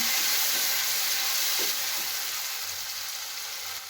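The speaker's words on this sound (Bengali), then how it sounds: "কিছুটা গোলমরিচের গুঁড়ো দিয়ে খুব ভালো করে আবার এটাকে নাড়াচাড়া করে নিচ্ছি" Chicken soup being stirred in a pot after soy sauce and ground pepper go in, a restaurant-style preparation: a steady, fairly quiet sizzling hiss that fades slightly over a few seconds, with no talking.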